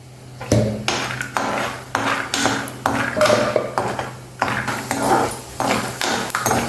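Peanuts poured into a kadai with a spoon of oil clatter and rattle against the metal, with repeated close clinks and scraping bursts over a low hum.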